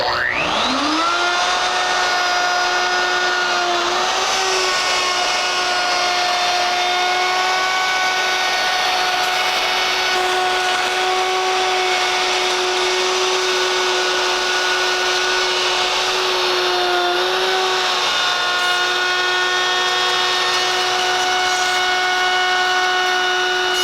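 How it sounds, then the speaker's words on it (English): A router cuts a wooden door panel at full depth on a clockwise second pass. It makes a loud, steady high whine with strong harmonics that spins up in the first second, then holds unbroken and close for the whole stretch. "So now we'll make the second pass, this time clockwise, with the machine set up to make the full depth of the cut."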